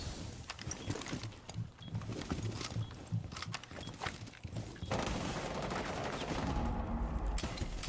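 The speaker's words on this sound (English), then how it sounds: "Let's see his recoil on SMG with this putrid sensitivity." Rapid SMG fire in a first-person shooter game, bursts of quick crackling shots interspersed with footsteps and movement, followed by a steadier rumbling background near the end.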